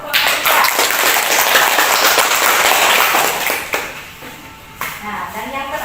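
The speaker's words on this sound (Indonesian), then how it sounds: "Berikan aplaus untuk kelompok 3." Students in a classroom applaud for a group, a dense burst of clapping that fills the first few seconds and then fades, with a voice speaking as it dies away.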